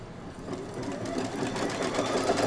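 A home sewing machine running continuously for a few seconds, stitching a placement line for quilt batting with a pre-wound 90 weight bobbin; steady, close, moderately loud whirring with no talk.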